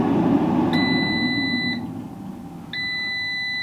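A Cosori Dual Blaze smart air fryer finishing a whole chicken gives two long, shrill electronic beeps separated by a pause, heard over a low fan hum.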